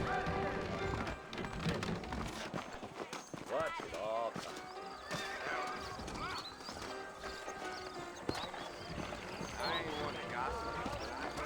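Horses in Red Dead Redemption clip-clop and whinny in a western game scene, hooves steady under almost continuous character talk and busy background sound.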